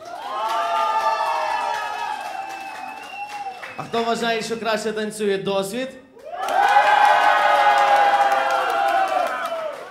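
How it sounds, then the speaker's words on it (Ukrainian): Wedding guests at a reception in Pidhirtsi clap and cheer loudly, with whoops and shouts layered over the applause in two bursts; a host's voice briefly speaks over the music between them. "Давайте, друзі, оплески для учасників."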